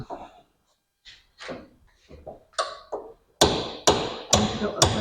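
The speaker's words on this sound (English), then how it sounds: "I just want to see if I can tap the back a little bit." Four sharp, loud hammer taps close by in quick succession near the end, after a few quieter knocks and brief speech.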